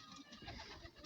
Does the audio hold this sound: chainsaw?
no